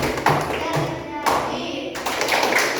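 Rhythmic hand clapping from a classroom clapping game, a chant-style activity naming the parts of a circle, with sharp repeated claps over voices talking and chanting throughout.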